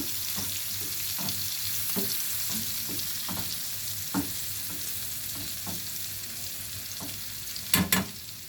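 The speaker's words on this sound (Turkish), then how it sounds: "Unun kokusu çıkana kadar da kavuracağım." Flour is dry-roasted in a pan, a soft steady hiss under repeated light scrapes and taps of a spoon against the pan, with a couple of sharper clinks near the end.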